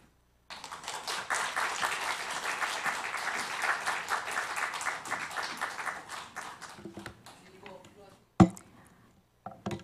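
A church congregation claps to welcome a guest speaker after the second worship service, a thick burst of many hands that holds steady for several seconds, then thins and fades, followed by scattered sounds and a voice speaking.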